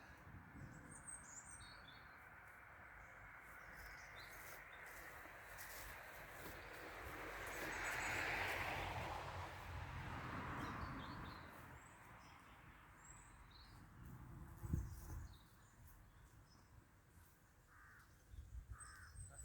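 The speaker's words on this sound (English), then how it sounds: "Listen to that bird song and the traffic." Crows caw and other birds chirp at an allotment over a steady wash of distant traffic noise. The calls are faint and scattered through a quiet outdoor ambience.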